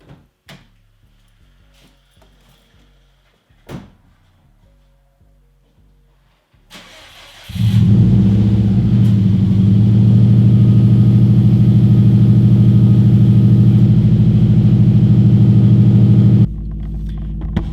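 A 2008 Subaru STI hatchback engine cranks and catches after a few door and cabin clunks, then settles into a loud, steady close-up rumble that holds for about nine seconds before dropping to a lower idle.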